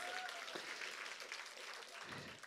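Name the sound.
church congregation applauding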